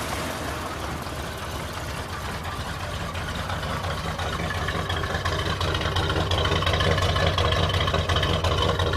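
A 1991 GMC pickup truck's 400 engine idles steadily, a low rumbling drone with a slight exhaust rattle from small exhaust leaks, close and continuous throughout.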